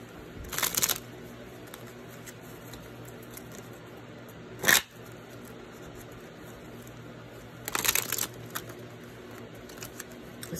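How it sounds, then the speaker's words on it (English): Tarot cards shuffled by hand, giving three short bursts of papery riffling and a single sharp snap between them, all faint and alone against a quiet room. "And I'm going to shuffle this way 3 times."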